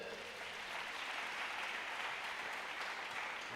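A church congregation applauds steadily, a dense continuous wash of many hands clapping at an even, moderate level from start to finish.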